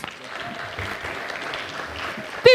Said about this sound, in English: People, let's give her a thunderous hand clap.